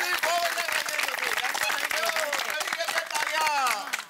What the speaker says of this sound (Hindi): इसलिए आप सब अपने लिए जोरदार ताली बजाइए